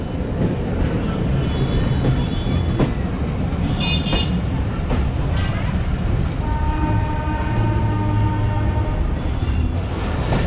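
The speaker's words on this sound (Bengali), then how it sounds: "আমাদের ট্রেন রাজশাহী কমিউটার এই মুহূর্তে প্রবেশ করছে রহনপুর রেল স্টেশনে" A Rajshahi Commuter train rumbles steadily into Rohanpur railway station, with continuous wheel noise, clattering cars and brief metallic squeals throughout, loud and close with no talking.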